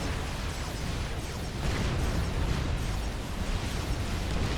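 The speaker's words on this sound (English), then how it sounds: "Skyboxers flinging that flak up into the air as T3 planes roar overhead" Skyboxer anti-air flak fire in Supreme Commander, a loud, dense, continuous barrage of rumbling bursts and crackling pops, with T3 planes roaring overhead.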